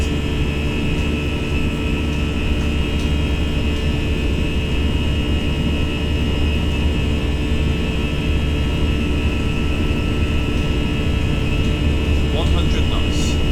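Airbus A319 jet engines spooled up to takeoff thrust in a flight simulator, a loud, steady, broadband roar with a constant whine that holds throughout.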